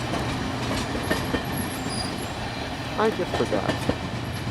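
A passenger train pulls away from Collage Park station toward San Jose, its steady rail rumble and wheel noise filling the scene, with brief squeals near the end and a person speaking briefly over it.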